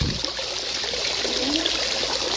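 Fresh water pours steadily into a small biofloc tilapia pond, making a close, continuous splashing and trickling rush that holds an even level throughout, with no voices over it.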